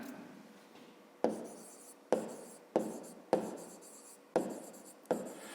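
Pen or pencil writing on paper while working a fifth-grade maths perimeter problem: six scratchy bursts of strokes at an uneven pace, close and fairly quiet, with no talking.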